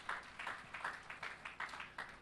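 A church congregation at a worship service claps in a steady, even rhythm, roughly two claps per second, a fairly faint and distant group applause without any voices.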